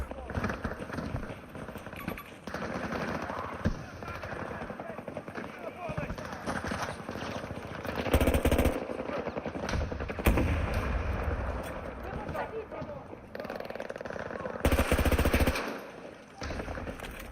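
Rapid automatic gunfire and heavy bursts in Battlefield 2042 rattle in uneven clusters, with louder blasts around the middle and near the end, while a voice talks over much of it.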